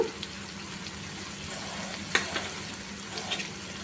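Ginger and chili powder fry in a pan with a steady, close sizzle and a few light stirring knocks, one sharper clack near the middle, and no voices.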